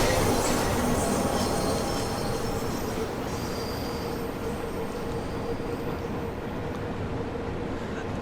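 A train runs in a train simulator video game: continuous loud rolling rumble with squealing wheels, slightly louder at the start and steady through the rest, without speech.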